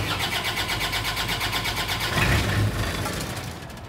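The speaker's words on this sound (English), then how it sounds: "So now I'm going to go ahead and start the engine." A small engine on an aircraft nitrogen generator cart cranks and catches, running steadily with a pulsing mid-range drone and a brief louder surge, close and alone with no talking.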